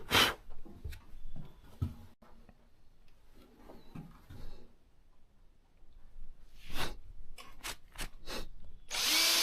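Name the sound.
power drill driving screws into wood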